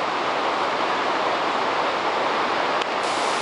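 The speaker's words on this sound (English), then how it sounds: "this waterfall." A waterfall beside the Inca Trail gives a steady, dense roar of falling water, close and unbroken from start to finish with no talk over it.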